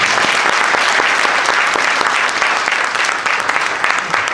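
Dense, steady applause from an audience at a literature and arts gathering, loud and close, continuing evenly throughout without voices standing out.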